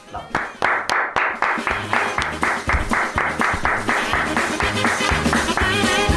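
Steady rhythmic clapping in even beats, repeated sharp claps over a bouncy music track for several seconds, with a voice coming in briefly beneath.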